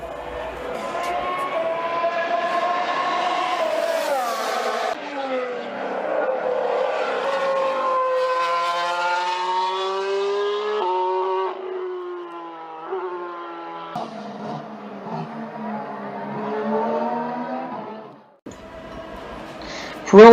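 Formula One cars from the 2016 season, fitted with a wastegate, scream past in a continuous high-pitched engine wail with shifting pitch as they accelerate and pass, loud and sustained with no talk.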